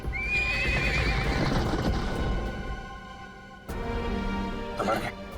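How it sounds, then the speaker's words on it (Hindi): Horses neigh and hooves clip-clop in a dramatized royal scene: a long, shrill whinny rises early over busy hoofbeats, a brief lull follows, then more hoof clatter and a second whinny, with talk mixed in. "महाराज, घोड़े तैयार हैं।"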